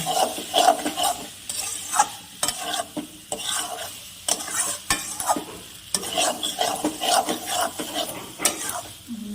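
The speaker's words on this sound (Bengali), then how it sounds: "আলুটা এখন মশলার সঙ্গে ভালো করে মিশিয়ে দেব।" Small potatoes stirred into a spice mix in a pan for a duck egg curry, with a spoon scraping in steady repeated strokes over a soft sizzle, close and fairly loud, no talking.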